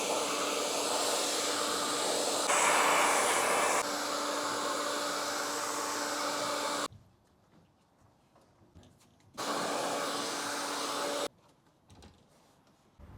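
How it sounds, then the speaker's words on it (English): Hairdryer heating a leaking ute tray, a loud steady blowing whine that runs for several seconds, cuts off, starts again, then stops, with quiet gaps between. "That's where the Misso's hairdryer comes into it."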